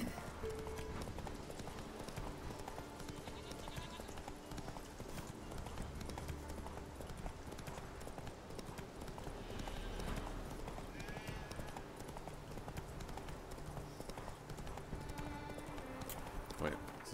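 Geralt's horse Roach galloping in The Witcher 3, continuous rhythmic hoofbeats under a voice, with game music and ambience throughout.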